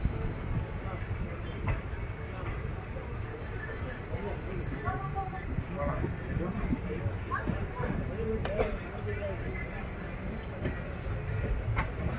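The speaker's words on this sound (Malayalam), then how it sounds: "ബണ്ടുവാള സ്റ്റേഷനിലേക്കാണ് ട്രെയിൻ എത്തിയിരിക്കുന്നത്" Train rolling into Bantwal station, a dense rumble with rhythmic wheel clatter and faint squeals, heard from inside the carriage, with voices murmuring in the background.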